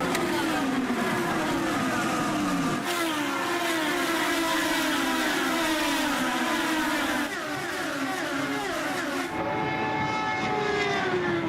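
IndyCar race cars accelerate hard on a side-by-side restart at New Hampshire, a dense, loud roar of many high-revving engines with pitch rising and shifting as the field passes, no talk.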